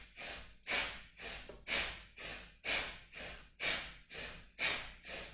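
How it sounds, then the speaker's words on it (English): Forceful breathing during a chair yoga session, ten rapid rhythmic breaths in and out, each a strong close rushing whoosh of air, evenly paced and alone without talk. "Breathing in and out really forcefully."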